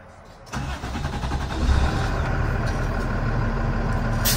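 A Cummins diesel engine in a 2023 International MV truck cranks and catches, then settles into a loud, steady idle close by.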